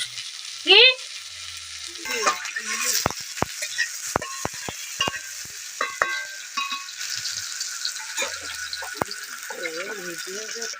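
Green chillies frying in a pan for a Bengali banana flower curry, a steady crackling sizzle with a few sharp stirring clatters, someone speaking briefly over it.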